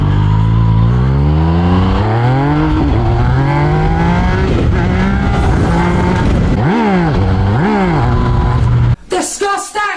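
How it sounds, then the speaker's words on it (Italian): A Yamaha R1M motorcycle with its clutch slipping at low revs, on a street in Naples: a loud, close engine note that rises and falls through repeated revs, then cuts off sharply near the end. "La frizione a bassi giri, slitta."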